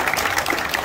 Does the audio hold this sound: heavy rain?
no